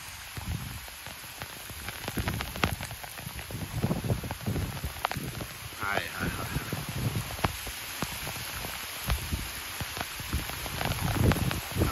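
Heavy rain pours down in a dense, constant hiss and patter, loud and close, while a voice briefly calls out a few words.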